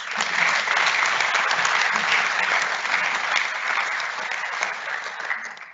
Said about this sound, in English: Please join me in celebrating Mrs. Becker with a warm round of applause